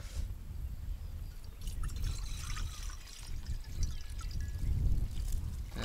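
Water is poured into a cooking cauldron set on a makeshift stone hearth outdoors during a fishing trip, a steady rushing pour with a low, heavy rumble and no talking.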